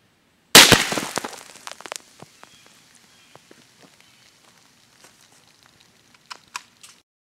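A .22 rifle shot fired through a row of cans cracks loudly once near the start, followed by scattered small metallic clinks and rattles as the cans settle, then a few light taps near the end.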